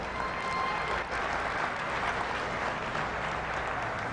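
At a county youth fair and livestock show, a crowd claps for the exhibitors in the show ring, producing a steady, even wash of applause from many people at a moderate distance, with no talking.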